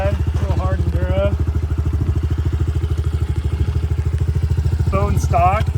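A pit bike engine running on a street, a steady close putter of rapid firing pulses throughout, with a voice speaking briefly over it near the start and again near the end.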